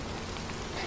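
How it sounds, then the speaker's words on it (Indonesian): Steady rain pours down as a dense, continuous hiss across the whole moment, loud and close with no breaks, no voices and no thunder. "Lo ngapain neduh di sini? Udah hujan-hujanan aja sana."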